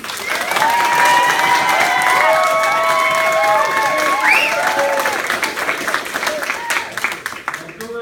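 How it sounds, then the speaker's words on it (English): Guests applaud and cheer for a couple at a vow renewal ceremony, a loud, sustained round of clapping with whoops and voices rising over it, tapering slightly near the end. "Please give yourself and this gorgeous couple a huge round of applause."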